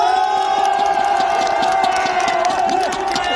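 A large outdoor crowd in Gumi Station square cheers and shouts to welcome presidential candidate Lee Jae-myung at a rally, a loud, dense roar with sustained tonal whistles or voices running through it, continuous for the whole stretch.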